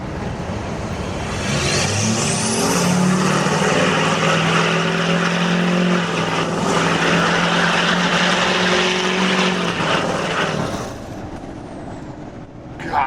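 A 2006 Duramax diesel truck with a 5-inch Diamond Eye straight pipe at part throttle, giving a loud, steady, deep droning roar that holds for about ten seconds before easing off, close by with no talk.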